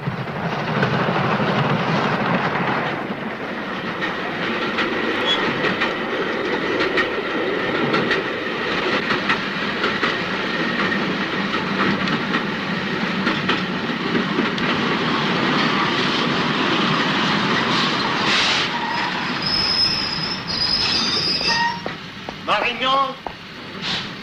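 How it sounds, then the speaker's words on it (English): A train pulls out of a station with a loud, continuous rumble of wheels and carriages, high metallic squeals and whines rising near the end, with a voice speaking briefly beneath the noise. "The train is just leaving."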